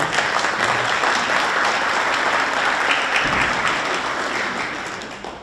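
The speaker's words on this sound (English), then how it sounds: "I'm just going to give you guys a round of applause" A room full of people at a city council workshop claps in a sustained round of applause, dense and steady, fading slightly toward the end.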